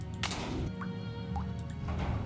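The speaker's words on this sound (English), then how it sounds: "Drip, drip, drip." Water drips inside the Nancy Drew: Ghost Dogs of Moon Lake video game, a few separate wet plops spaced irregularly over a low ambient hum, fairly close and quiet with no talking.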